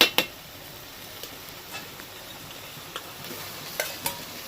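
Fried potatoes being stirred into spiced oil for Kashmiri aloo dum, a soft, continuous sizzle with a few light scraping and clinking taps of a utensil, fairly quiet and close.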